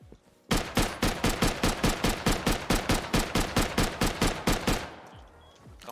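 Rapid automatic gunfire from the online survival game Rust, a long burst of about twenty evenly spaced loud, close shots over roughly four seconds, then a fading tail.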